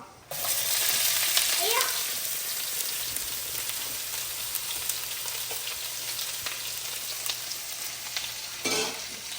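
Sliced onion dropped into hot coconut oil with fennel seeds, a continuous hissing sizzle with some stirring clatter, moderately loud and steady, ending with a brief louder burst.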